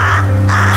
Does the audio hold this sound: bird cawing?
yes